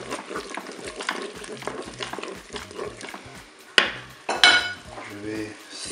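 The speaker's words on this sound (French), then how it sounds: "ajouter les olives" Olives drop into spaghetti and chicken in a Cookeo pot, with clattering utensil knocks, stirring and a light sizzle, plus a couple of louder clinks toward the end.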